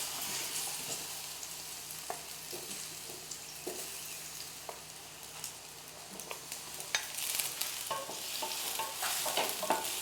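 Chopped ripe plantain fries in melted ghee in a home kitchen, a soft, steady sizzle beneath occasional stirring scrapes and light clinks of a utensil against the pan.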